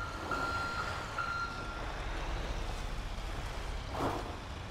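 A fire truck's reversing alarm in GTA 5 beeps in a steady repeating pattern for a few seconds over a low engine rumble, with no talk.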